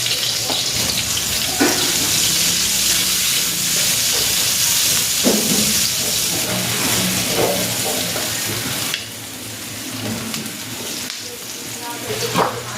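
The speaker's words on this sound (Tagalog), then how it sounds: "Magigisa na ako ng bawang. At ng sibuyas." Garlic and onion sautéing in hot oil in a pan for pancit bihon, a loud, continuous close sizzle with occasional stirring scrapes that eases slightly toward the end.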